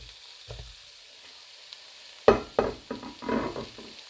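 Fresh tomatoes hit a hot pan of cooking onions and sweet peppers for shakshuka, setting off a sudden loud sizzle that continues as crackling frying with stirring, after a quiet start.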